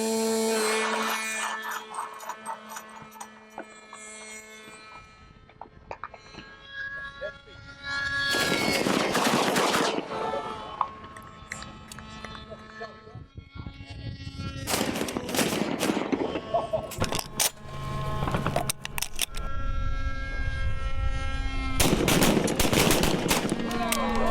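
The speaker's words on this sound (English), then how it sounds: "That was the best thing I've ever done with a shotgun in my hand." Shotgun blasts at targets, fired with Fiocchi ammunition, ring out as loud, repeated reports in several clusters over a steady background hum, with a voice talking between the shots.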